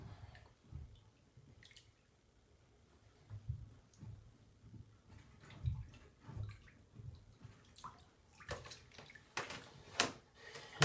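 Water is rinsed and drained out of brass instrument tubing, giving quiet irregular drips, gurgles and splashes that grow busier and louder toward the end.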